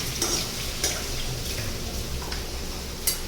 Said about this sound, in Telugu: గోల్డెన్ బ్రౌన్ కలర్ అయ్యే వరకు ఫ్రై చేసుకోవాలి.